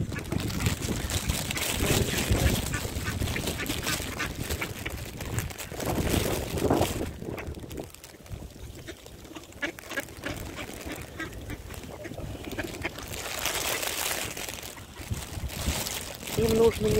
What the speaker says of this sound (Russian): Тут и голуби, тут и утки.